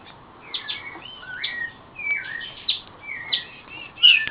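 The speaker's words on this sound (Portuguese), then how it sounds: "Agora vocês vão ver a minha fêmea de xoxó especial tratando o filhote." A female xoxó bird feeding its chick gives a rapid series of high, bright chirps and short whistled calls close by. Roughly ten notes come in uneven bursts over a faint background, with no talk.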